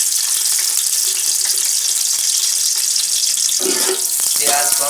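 Onions dropped into hot ghee for chana pulao, a steady bright hiss running throughout, with a louder burst of sizzling and crackle near the end as they hit the fat.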